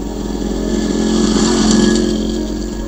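A motorcycle is ridden, its engine a steady, close, buzzing drone that rises slightly in the middle and stays continuous throughout.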